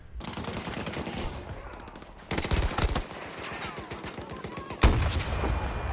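Gunfire in the shooter game Battlefield 2042, with steady automatic bursts crackling throughout and two louder, closer volleys standing out over the din of the battle.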